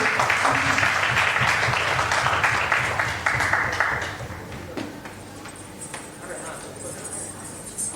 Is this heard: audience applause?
yes